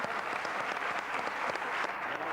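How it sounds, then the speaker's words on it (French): Studio audience applause on a French television show, a steady wash of clapping at moderate level with no talk over it. "Ben écoutez, je crois qu'on va vous applaudir."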